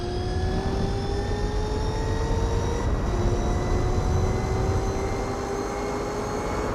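An Opel Speedster drives in the video game Gran Turismo 4 with a steady, rising engine whine. The whine drops briefly at a gear change and then climbs again, over a constant rumble of road noise.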